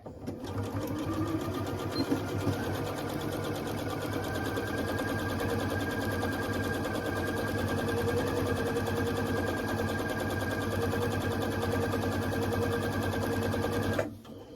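A sewing machine runs steadily for about fourteen seconds, stitching a pinwheel-pattern quilted baby blanket into a tube, a continuous close mechanical whir that stops abruptly at the end.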